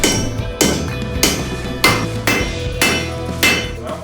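A hammer rings against hot metal being forged from a spring into a knife, in loud, repeated blows about every half second, each strike bright and clanging with a short ringing decay.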